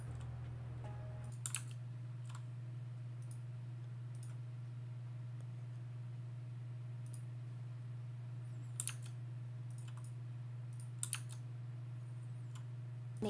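Computer keyboard typing at a desk during a Wuthering Waves gaming session, heard as sparse, brief clicking keystrokes scattered over a steady low hum, with small clusters of taps rather than continuous fast typing.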